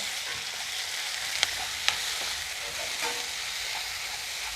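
Tomatoes sautéing for a chana masala in a pan on the stove, giving a steady broadband sizzle and frying hiss with a couple of faint clicks of stirring, close and even throughout, with no voices.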